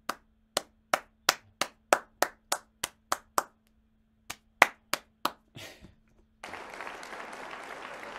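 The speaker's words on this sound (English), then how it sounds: "That's a slow rolling applaud" Slow, rolling applause: a dozen or so single sharp hand claps spaced about a third of a second apart, a short pause, a few more claps, then a burst of noisy sound with no talk.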